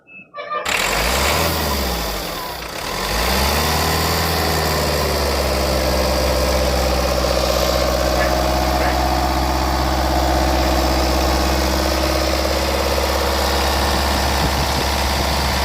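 A Mahindra Marazzo seven-seater car sits with its engine idling, a steady close low rumble with even harmonics running throughout after a brief start, with no talking.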